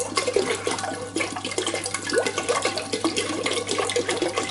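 Bottled water glugs into a brewing fermenter for a 12 litre American IPA extract batch, a steady close splashing pour lasting throughout with no talk.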